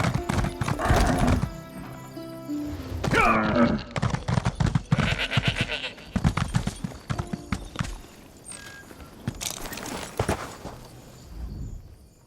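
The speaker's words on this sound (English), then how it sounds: "The horses are resting." Horses in the Alik'r Desert of Elder Scrolls Online whinny and neigh loudly between clopping hooves, several distinct calls rising over irregular stamping, close and unaccompanied by speech.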